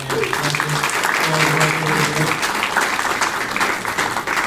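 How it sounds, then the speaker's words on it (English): An audience applauds student presenters at a youth entrepreneurship challenge event, a dense, sustained wash of clapping from a large crowd with a voice briefly audible underneath. "let's give a round of applause to these wonderful student presenters today"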